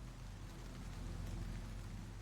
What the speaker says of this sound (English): By midday, a curtain of clouds drifted across the sky, bringing a soft patter of rain.